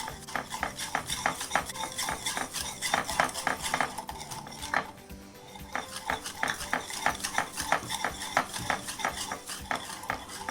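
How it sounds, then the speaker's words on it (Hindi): A spoon beats sugar and oil together in a bowl for an eggless orange cake, making quick rhythmic clinks and scrapes in close, repeated bursts with a brief pause midway. "अब इसमें ऑयल डाल देते हैं, इसे भी मिक्स कर लेते हैं"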